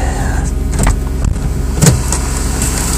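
A 1998 Oldsmobile LSS engine idling just after a cold start in winter, a steady close low rumble with a few brief mechanical clicks and thumps over it.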